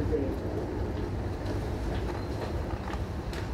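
A train rumbles along with a steady low drone and faint rattling of carriages, fairly quiet and continuous.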